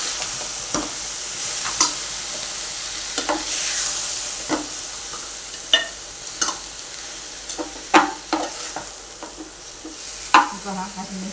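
Dill greens and moong dal get stirred in a hot pan, with repeated scraping strokes of the spoon cutting through a constant bright sizzle.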